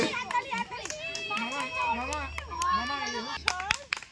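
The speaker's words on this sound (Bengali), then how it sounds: "জোরে হাততালি।" Children clap together during a prize announcement at a dance school picnic, the bursts of applause and excited chatter mixing with an adult voice speaking over the group nearby.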